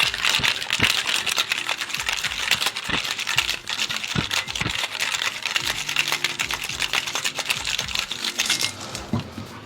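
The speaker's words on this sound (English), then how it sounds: "Shake it up." Ice shaken hard in metal cocktail shaker tins while mixing a Gordon's Cup summer cocktail: a loud, continuous, rapid rattling and clattering close by that lasts the whole stretch with no talking.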